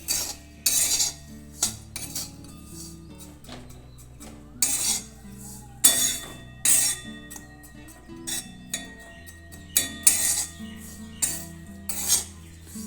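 A spoon clinks and scrapes against a bowl as gujiya filling ingredients are mixed together, a steady run of close, bright metallic taps and scrapes repeating in irregular bursts.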